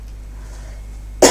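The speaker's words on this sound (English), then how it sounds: "still trying to get over this cough for the last couple of weeks" A single sharp cough from a woman doing a tarot card reading, bursting out at the very end after a near-silent stretch of low room hum.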